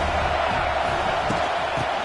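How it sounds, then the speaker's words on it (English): Cheering stadium crowd in a college football video game, Northwestern at Auburn, a constant roaring wash of noise throughout with no distinct individual voices. "This crowd bringing the energy and noise early."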